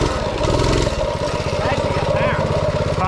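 Mini bike engine revving hard as the rider pops wheelies, a buzzy mid-pitched small motor whose pitch rises and falls close by, with people talking over it.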